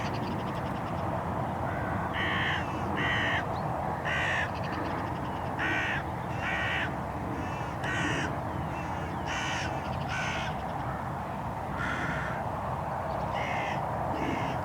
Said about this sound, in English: set all the other crows off in an absolute tizzy fit, flying around above, crowing loudly